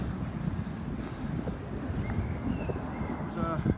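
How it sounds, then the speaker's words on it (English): A pair of Class 158 diesel trains idle at Wigan North Western station, a low rumbling engine drone with faint squeals and clanks, heard under nearby talk. "This is our penultimate train today, this pair of 158s"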